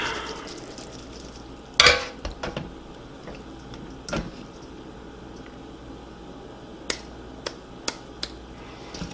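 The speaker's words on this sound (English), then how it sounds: "I can snap my fingers" Fingers snap a few times after rinsing greasy ground beef, giving sharp, faint, close clicks: one louder snap early on, then a quick cluster of small snaps near the end over a quiet kitchen background.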